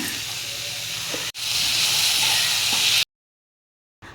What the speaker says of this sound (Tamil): இப்போ இதையும் சேர்த்து நல்லா வதக்கிக்கோங்க